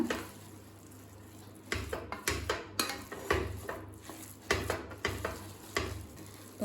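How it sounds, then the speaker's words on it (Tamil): Cooked rice for sweet pongal being mashed in a pressure cooker pot, with a series of irregular, close thuds and scrapes of a utensil against the metal, some bursts louder than others and no talking. "இப்போ சாதத்தை நல்லா மசிச்சாச்சுங்க."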